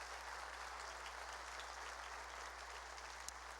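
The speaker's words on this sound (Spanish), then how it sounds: "Dale más fuerte ese aplauso al Rey" Steady applause from a church congregation clapping for the King during a worship service, a dense even wash of hand claps over a low constant hum, moderately faint and without pause.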